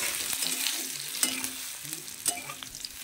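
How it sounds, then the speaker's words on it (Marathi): Alu vadi, colocasia leaf rolls, frying in hot oil in a kadhai pan: a steady bright sizzle with occasional soft clicks from a stirring spoon. "आता मी वड्या गरम करून घेतो।"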